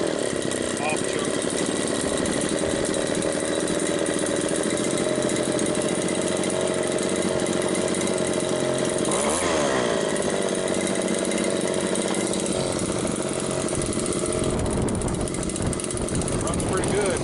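A Stihl BG72 leaf blower's two-stroke engine runs loud and continuous nearby, briefly dipping and swelling in pitch around the middle, with heavy wind rumble underneath throughout.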